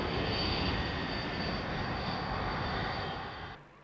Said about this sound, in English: a chance to catch that Norwegian F-16 as he perpetrates the tiniest of bounces on landing